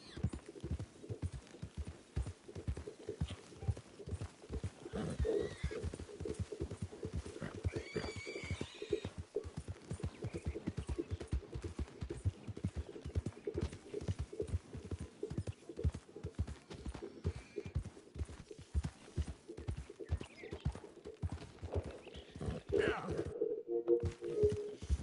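A horse in the Red Dead Redemption 2 video game trots with steady rhythmic hoofbeats throughout, a whinny rising briefly near the end, with faint talk in the background.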